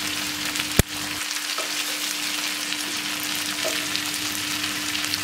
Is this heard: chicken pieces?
yes